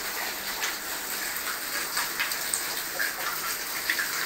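Heavy rainwater pours and drips steadily into a 16th-floor apartment during a downpour, a dense continuous hiss and patter with scattered louder drops and no voices.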